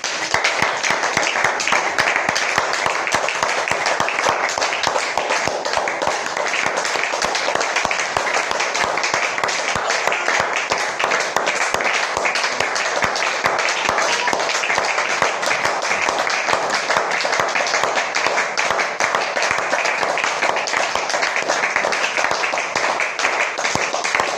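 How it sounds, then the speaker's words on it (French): A congregation at a revival prayer service applauds for the Lord Jesus, dense continuous clapping that stays steady and loud for over twenty seconds with a faint undertone of voices. "Applaudissons pour le Seigneur Jésus"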